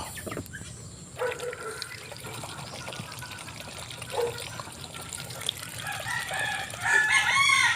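Several chickens cluck and squawk at close range, with a rooster crowing near the end, over a soft background hiss.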